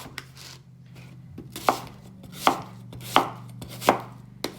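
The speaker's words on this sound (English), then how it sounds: "And then I cut it into slices." A knife slices produce on a cutting board, with five firm, evenly spaced chops over a low steady hum and no talking.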